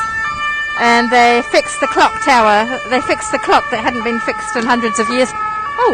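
Loud wailing police sirens rise and fall close by on a Paris street, overlapping someone talking in the foreground.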